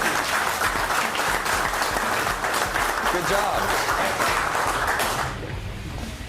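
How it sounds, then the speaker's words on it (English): At a live pad-cleaning and motorcycle-detailing demonstration, an audience breaks into steady, full applause for two presenters, loud clapping that drops away near the end as someone speaks briefly. "how about a big round of applause for Chris and Doug?"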